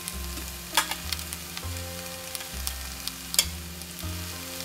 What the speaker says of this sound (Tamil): ஒரு கொத்து கொத்தமல்லிங்க அதை போட்டுட்டு வதக்கி எடுத்துப்போம்